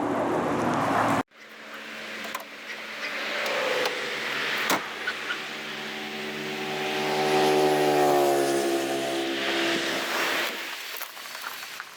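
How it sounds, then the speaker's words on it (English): A car engine idles steadily after a jump start from a NOCO Genius Boost GB20 12V lithium jump pack, a close continuous hum with harmonic tones that swell briefly mid-way, following an abrupt cut at the start. "The car is still running because now the alternator is putting out the current needed to run it."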